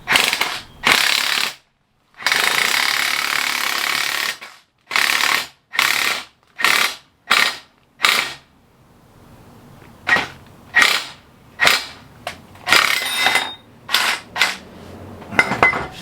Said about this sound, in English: Since I'm installing the K-tune extended ball joint, I have an extension just in case, so it doesn't ruin the stud once it presses in.